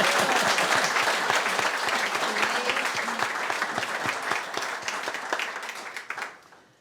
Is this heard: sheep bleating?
no